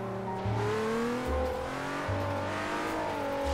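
A car in Forza Horizon 3 accelerates hard, its engine revving up through several gear shifts in a steady rising whine, loud and close with no talking.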